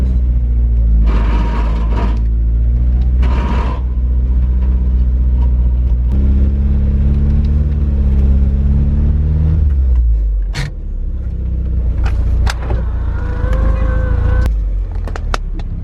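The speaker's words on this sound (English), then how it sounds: "I wanted to take it for a quick test drive around the block just to make sure everything was good" A turbocharged Mazda Miata, driven just after its engine break-in, makes a loud, steady engine drone while cruising, with a few swells as it accelerates. Brief clicks and squeaks are heard from inside the car, and voices speak at times.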